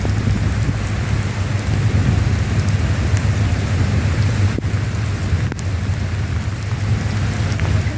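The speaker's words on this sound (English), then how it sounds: "it was lightning and rain" Steady heavy rain pours during a lightning storm, with low thunder rumbling beneath the constant hiss and no voices.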